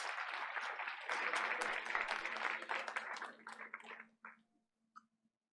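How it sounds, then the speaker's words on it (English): A round of applause at a school board of education meeting, dense clapping for about four seconds that thins out into a few scattered last claps, with a faint steady hum beneath. "Let's give him another round of applause."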